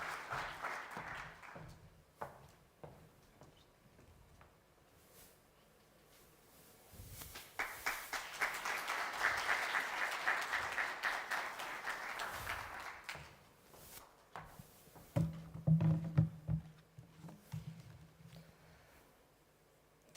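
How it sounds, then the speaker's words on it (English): An audience claps for an award presentation at a ministerial conference on public administration reform, scattered claps swelling into a fuller round of applause in the middle, then fading with a few close footsteps and taps. "Please, a big round of applause."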